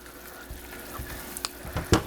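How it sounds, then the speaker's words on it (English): Sugar syrup boils softly in a pan, with scattered bubbling pops and a faint sizzle growing a little louder toward the end. "We have it boiling"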